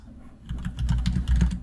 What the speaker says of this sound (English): wow, that was some really bad typing